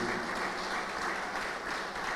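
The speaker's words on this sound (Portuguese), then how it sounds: "Eu peço que vocês possam saudar com a calorosa salva de palmas o João" An audience at a talk on microgeneration energy projects gives warm, dense applause, a steady wash of many hands clapping together, loud and sustained for about two seconds.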